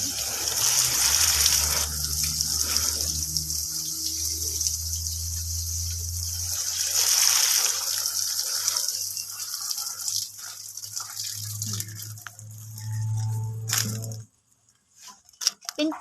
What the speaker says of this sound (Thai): ตอนนี้ก็จะหดน้ำค่ะ